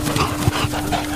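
A dog at a dog park gives a short low whine or grunt, close and fairly loud over outdoor background noise, with a muffled voice briefly behind it.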